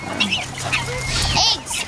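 A turkey gobbling nearby, a short burst of warbling bird calls over faint background noise.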